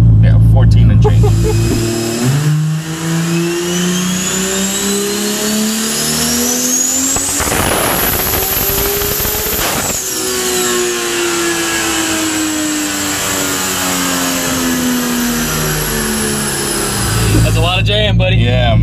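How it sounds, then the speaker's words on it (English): Loud engine of a 2JZ-swapped Toyota FRS, a 1200 hp widebody making around 50 psi of boost, revving hard while driving, pitch rising through the gears with a brief shift break midway; voices talk over it. "I'm taking a little drive in the 2JZ FRS."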